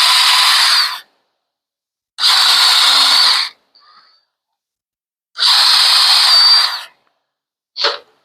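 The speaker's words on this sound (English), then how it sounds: "We're going to pre-drill some just so we don't split nothing." A power drill pre-drills screw holes in 2x4 lumber while a shave horse is assembled, three loud sustained whirring bursts of about a second each with gaps between, then a short final spin.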